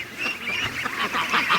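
Ducks quack outdoors, a run of nasal, rapid calls overlapping one another at close range, fairly loud and continuous with little pause between squawks.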